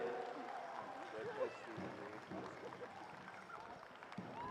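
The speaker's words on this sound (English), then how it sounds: "Big round of applause for Linda Standing." A crowd at an evening pow wow applauds a dance champion, with steady, distant-sounding clapping held low under an announcer's voice.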